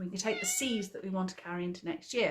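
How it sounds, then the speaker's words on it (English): A cat meows repeatedly in a room, its calls mixed in with and partly masked by a person talking steadily over it. "You can hear my cat in the background."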